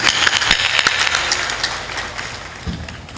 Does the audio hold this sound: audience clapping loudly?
yes